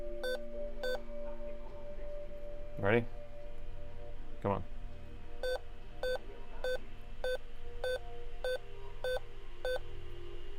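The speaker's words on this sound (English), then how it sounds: "And we have a beep code." Alienware laptop motherboard on a repair bench sounding a POST beep code: a series of short, evenly spaced electronic beeps in repeating groups, with a low background hum, two sharp clicks and brief talk over it.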